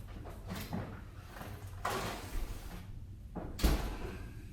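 An oven door swings open and later shuts with a dull thud, with quieter handling clatter in between as Brussels sprouts go in, close by and without talk.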